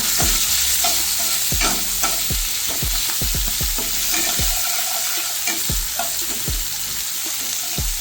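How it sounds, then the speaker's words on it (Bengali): Chopped onion, garlic and slit green chillies fry in a hot pan, a steady bright sizzle broken by frequent sharp clicks and scrapes of a spatula stirring the pieces, close and clear. "আমি পেঁয়াজগুলির একটু কালার চেঞ্জ হওয়া অবধি ভাজবো।"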